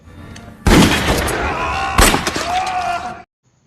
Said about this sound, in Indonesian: dia pun bisa dilumpuhkan dengan tembakan dari Joel dan Mason